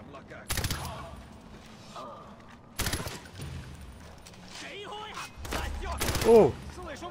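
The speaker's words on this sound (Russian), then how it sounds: "О! Слышу выстрелы!" Bursts of gunfire in Far Cry 4 ring out in sharp volleys, separated by pauses, while a voice talks quietly in between.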